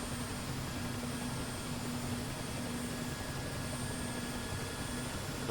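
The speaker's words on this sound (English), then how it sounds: "Both engines are up." Twin turbine engines of an Mi-8 helicopter in the DCS flight simulator run at a steady idle, a continuous broadband whine and roar with faint tonal hums, even and unbroken with no talk.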